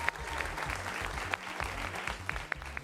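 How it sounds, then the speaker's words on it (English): Steady applause from an improv comedy audience welcoming three performers onto the stage, dense and continuous with a few sharper claps standing out, no talking over it. "Give a big round of applause to these 3 performers."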